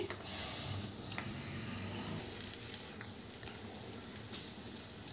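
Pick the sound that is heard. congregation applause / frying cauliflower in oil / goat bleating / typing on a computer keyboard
frying cauliflower in oil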